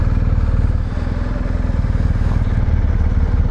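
A 2023 BMW R1250GS Rally motorcycle engine idles and putters loudly close by, a steady rhythmic low thrum pulsing throughout, with no voices over it.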